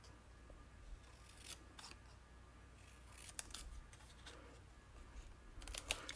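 Small scissors snipping closely around a tiny piece of white paper for a stamped card craft, a few faint, quiet cuts spaced apart against a soft background hiss.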